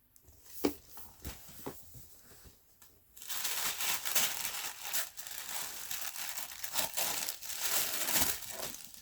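Tissue paper printed with a logo crinkles while a Polene bag is unboxed, first in a few sparse rustles and then in a continuous close crackling and crumpling, with no talking over it.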